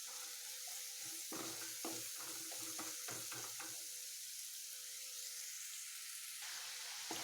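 Jaggery melting in a pan over a low gas flame gives a soft, steady sizzle, with a cluster of light scraping clicks partway through. No one speaks.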